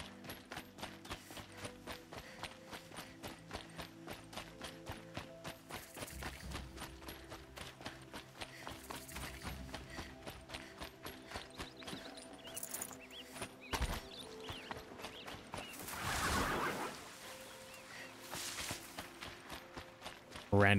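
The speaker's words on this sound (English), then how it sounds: "Random horse." Horse hooves clip-clopping in Horizon Zero Dawn, a steady run of moderate hoofbeats going on for the whole stretch under game music and effects, with a burst of other noise partway through.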